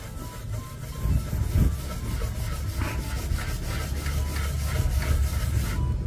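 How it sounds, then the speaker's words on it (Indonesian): A cloth with toothpaste is rubbed back and forth over scratches on a motorbike, making a close, steady, rhythmic scrubbing that continues without talk. "Kita gosok sampai benar-benar baretnya menghilang."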